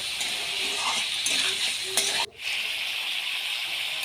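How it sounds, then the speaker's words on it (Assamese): Broiler chicken sizzles loudly in hot oil over a low flame, a continuous crackling hiss with a few stirring clinks, briefly cut off near the end before resuming. "মাংসখিনি ফ্ৰাই কৰোঁতে সদায় ল' ফ্লেমত ৰাখিব আৰু ৰঙচুৱাকৈ ভাজি ল'ম"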